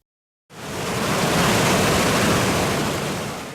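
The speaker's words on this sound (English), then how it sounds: "The path follows the burn through a gorgeous gloomy gully as the waters rumble and tumble downhill towards the River Coe." Rushing burn water tumbling downhill through a gloomy gully in Glencoe, a loud steady broadband roar that starts abruptly and holds close and constant with no voices.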